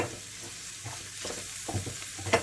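Minced meat for keema paratha fries in a pan while being stirred, with quiet sizzling under a series of soft scraping strokes of the spoon, close and fairly faint.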